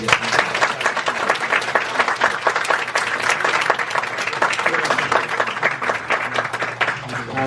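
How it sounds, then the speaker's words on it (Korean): A church congregation in New York applauds during an ordination and retirement service, steady dense clapping from many people held at an even level throughout, with faint voices beneath. "격려의 박수를 한번 부탁드리겠습니다."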